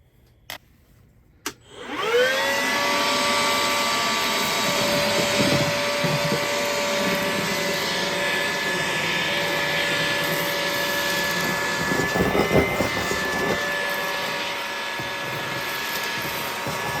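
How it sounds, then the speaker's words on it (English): A Makita shop vac vacuuming inside a van being fitted out, starting after a couple of clicks. It settles into a loud, steady, whining roar that runs continuously with small shifts in pitch. "So I'm going to do a little vacuuming"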